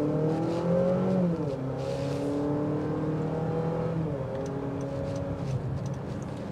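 2025 Honda CR-V Sport L hybrid with eCVT accelerating hard in sport mode, a steady whirring engine drone that rises in pitch, dips briefly and climbs again, heard from inside the cabin at moderate level.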